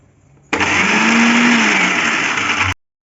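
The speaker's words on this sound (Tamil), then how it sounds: "மிக்ஸியில் நல்லா சாஃப்டாக அரைச்சிக்கோங்க." A mixer grinder blending chutney with a little water starts abruptly and whirs loudly at a steady high speed for about two seconds, then cuts off into silence.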